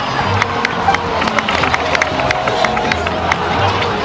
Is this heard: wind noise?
no